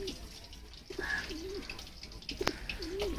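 Royal Teddy pigeons coo in a few soft, rounded calls spaced across a short stretch, close by over a faint background hiss with a brief sharp click near the end.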